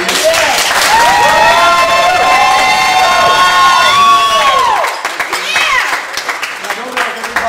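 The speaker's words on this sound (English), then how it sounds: "I think we all owe her a round of applause, please." Wedding guests cheer and applaud together, loud and close, with whoops, shouts and children's voices ringing over steady clapping that dies down after about five seconds.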